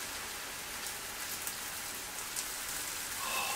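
Buttered toasted sandwich pressed down in a hot pan, giving a dense, even crackling sizzle like steady rain that holds constant throughout the short stretch, close and with no talking.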